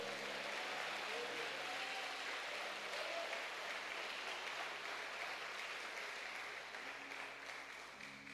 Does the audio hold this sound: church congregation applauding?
yes